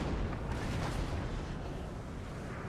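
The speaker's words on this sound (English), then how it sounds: "the artillery is going to have to stop firing shortly" Rumbling artillery fire from a Napoleonic battle in the video game Napoleon Total War, a dense continuous low boom and roll of distant cannon without distinct separate shots, no speech.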